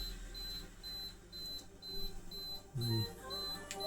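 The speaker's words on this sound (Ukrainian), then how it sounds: "це в мене холодильник пищить" A refrigerator emits a regular series of short, high beeps, evenly spaced and moderately loud, over a low room hum with a brief thump near the end.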